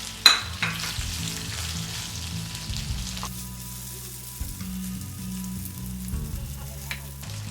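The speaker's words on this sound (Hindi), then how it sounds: "अब इसके बाद मैंने ये आलू कटे हुए जो थे उनको डाले।" Chopped potatoes dropped into a pan with ginger, frying with a steady sizzle, stirred for sabudana khichdi; soft scraping and clinks of stirring come and go over the continuous crackle.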